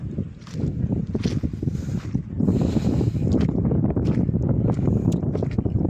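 Strong wind buffets the microphone with a constant roar, and sea waves slosh and splash underneath.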